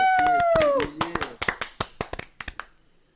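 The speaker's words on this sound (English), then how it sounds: "round of applause." A handful of people clap in a podcast studio after a call for a round of applause: a dozen or so close, sharp hand claps in an uneven run, opening over a cheer and voices and then trailing off alone into quiet.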